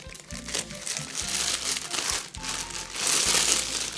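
Cool2Cast casting powder is measured into a plastic zip bag, with crinkling plastic and soft rustling scoops, close and fairly loud, and no one speaking.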